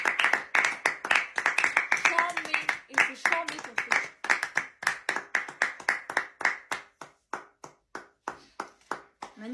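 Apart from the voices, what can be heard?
group applauding, clapping hands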